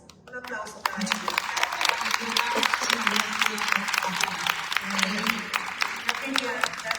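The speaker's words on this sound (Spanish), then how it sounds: "Un aplauso para ellos." An audience claps for speakers at a 2024 meeting of a network of house museums, a dense patter of hand claps running steadily from about a second in, with a voice talking underneath.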